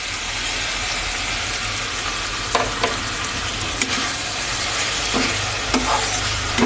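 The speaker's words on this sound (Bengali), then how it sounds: "পেস্টটা দিয়ে কিন্তু নাড়তে হবে, যেহেতু বাদাম আছে তলায় লেগে যেতে পারে।" Chicken frying in a pan with a paste of cashew and melon seeds, stirred with a utensil, giving a steady loud sizzle broken by occasional scraping knocks, with no talking.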